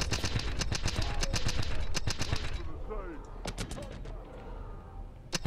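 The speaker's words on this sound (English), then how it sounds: "You're literally forcing me to hip fire." Rapid hip-fire gunfire in Call of Duty: Advanced Warfare, with repeated sharp loud shots in bursts, dense at first and then sparser, a voice talking over the shooting.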